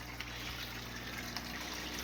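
Water runs steadily down through a hollow log into an indoor koi pond, a constant close splashing and trickling wash with no pauses and no talk.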